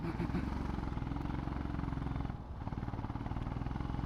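A motorcycle rides along the road from Siliguri toward Naxalbari, its engine a loud, steady drone that holds throughout, with a brief dip midway and no voices.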